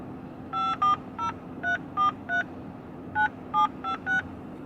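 Touch-tone keypad beeps as a phone number is entered at an automated order line, about ten short dual-tone presses in two quick bursts with a pause between, fairly loud over a low steady hum.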